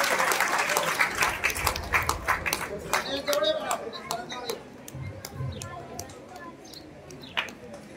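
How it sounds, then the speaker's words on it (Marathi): Audience applause at a school children's poetry gathering, dense clapping filling the first few seconds then thinning to scattered claps, with a voice speaking over the fading tail. "परत एकदा जोरदार टाळ्या वाजवूयात आपण या सर्वांसाठी"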